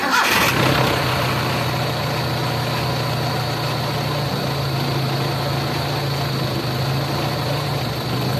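A Toyota 4K engine fitted with an electronic distributor cranks briefly, catches, and settles into a steady, loud, close idle that runs evenly to the end.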